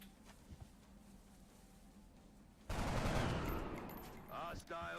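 Gunfire from XCOM Long War on Impossible difficulty at a crash site: after quiet ambience, a sudden loud burst of shots with a sustained rattling roar that fades, then brief electronic tones.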